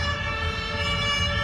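A procession of fire engine sirens wails steadily and loudly, several tones overlapping in a continuous layered blare through the whole stretch, with no talking.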